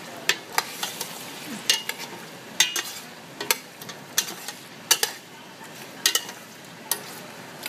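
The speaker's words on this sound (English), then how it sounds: "Stir it a little bit to get it a little bit sauteed in." Okra stew ingredients sauté in a pot, a low steady sizzle broken by sharp, irregular knocks and scrapes of a spoon stirring against the metal, close and clear.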